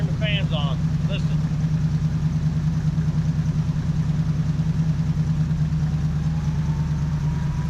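The V8 engine of a 1976 Ford Ranchero idles close and steady with its electric fans running, giving a constant low rumble and whir. A few faint chirps sound near the start.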